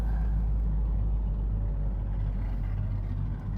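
A stock Honda Civic running on a race track, heard as a steady, deep engine and road rumble from inside the car, continuous and moderately loud with no talking.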